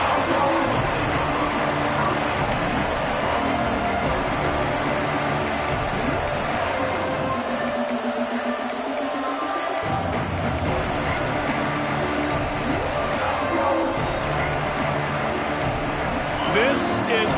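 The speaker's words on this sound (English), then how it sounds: "This crowd ready to make its presence known." Football stadium crowd at a college game, a broad continuous roar of many voices with swells and scattered cheers, heard under a play-by-play announcer talking throughout.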